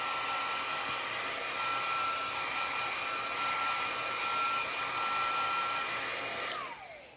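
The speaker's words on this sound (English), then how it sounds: "for the sake of the video, I'm going to do a quick blast of the heat" Heat tool blasting to dry stamped ink on a handmade card, a loud continuous whooshing roar heard up close for about seven seconds before it switches off and winds down at the end.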